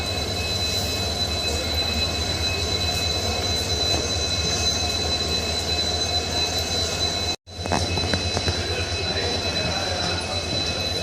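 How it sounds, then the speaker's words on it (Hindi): Rumbling train noise at Bareilly Junction railway station fills the platform in a steady, loud drone with wheel and rail clatter, briefly cut by a sudden silence before the rumble resumes. "बरेली जंक्शन पहुंच चुके हैं"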